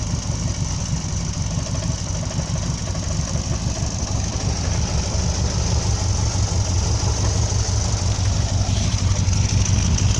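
A 1967 VW Type 3 Squareback's engine idles steadily with a low, rough rumble and a faint knock after four years parked, running continuously close by.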